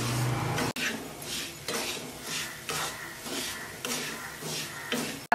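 Semolina roasting in hot ghee in a nonstick pan, a spoon scraping and stirring in steady repeated strokes about every half second over a soft sizzle, close and clear.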